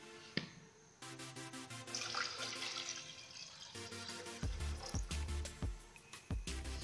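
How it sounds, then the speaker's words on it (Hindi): Water pours from a tap into a saucepan on a stove while sugar wax is being made at home, a steady splashing run that stops and restarts, with a few sharp knocks and clatters near the end. "अब हम इसमें डालेंगे पानी।"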